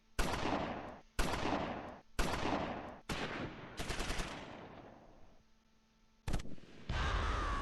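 Suppressive gunfire in the WWII tactics game Close Combat IV, Simmerath and Udenbreth battle: five loud, sharp bursts of automatic fire roughly a second apart, each trailing off, then a brief pause and another abrupt burst.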